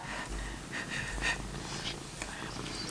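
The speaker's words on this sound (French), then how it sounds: "Oh le chat!" Cat purring softly nearby, a low rhythmic rumbling breath with brief snuffly exhales, fairly quiet and heard alone.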